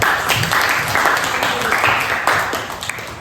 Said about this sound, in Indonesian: tepuk tangan semua buat Fitra